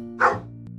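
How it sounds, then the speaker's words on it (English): A single sharp dog bark rings out nearby, followed by a brief low trailing sound and quiet. "It's the sound of a dog."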